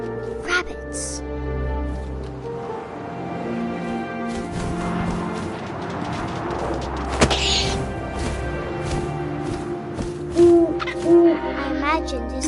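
An owl hoots in the video game What Remains of Edith Finch, low, soft calls repeating near the end beneath a narrator's steady voice and ambient game music.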